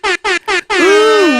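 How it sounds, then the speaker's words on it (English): An air horn sound effect blasts three short, loud, evenly spaced honks, then one long sustained blare with a slight bend in pitch, close and alone. "Ooh-wee, air horns for you."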